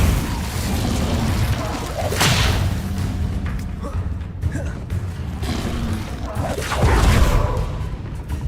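Hogwarts Legacy combat with an Incendio fire spell cast: bursts, whooshes and heavy thuds of magic impacts, with voices shouting spell names.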